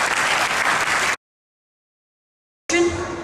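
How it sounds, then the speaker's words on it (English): Crowd at the Pakistan Blog Awards 2010 giving a dense round of applause, steady and full at first, then broken by a stretch of complete silence before the clapping returns with a few louder individual claps. "Please give Mrs. Praveen Qasim a big round of applause."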